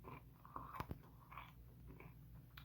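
Quiet, close chewing of pizzeria food with soft bites and a couple of crunchy, wet mouth sounds over a low background hum.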